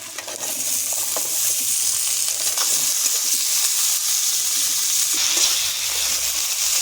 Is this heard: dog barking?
no